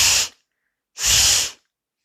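Two forceful breaths blown out through one nostril while the other is held shut, each a sharp, breathy hiss, the first short and the second lasting about half a second, separated by silence.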